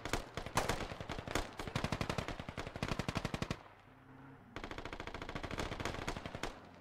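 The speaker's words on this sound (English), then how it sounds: "He's shooting the rocks." Automatic gunfire aimed at rocks in the video game Squad: long rapid bursts of close, loud shots, a brief pause, then another sustained burst.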